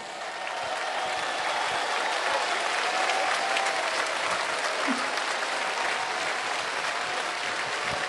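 An audience at a live folk music show applauds loudly and without a break, a dense continuous wash of clapping that fills the whole stretch and is heard alone.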